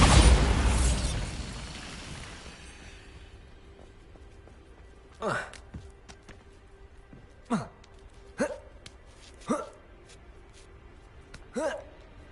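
Bombarda explosion spell cast in Hogwarts Legacy: after a loud opening burst, a series of five sharp, separate blasts and pops rings out at irregular intervals over a quiet background hum.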